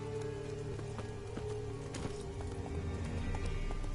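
Hooves of Roach, the horse in The Witcher 3, clopping steadily and close in a continuous trotting rhythm, with faint background ambience and no speech.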